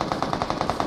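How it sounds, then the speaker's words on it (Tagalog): Rapid automatic gunfire from a shooting video game in a tournament match, about nine evenly spaced shots in under a second, steady and mid-distance. "Dito pa lang may nagbabarilan saka doon sa may Yasta may magkatabing team din doon."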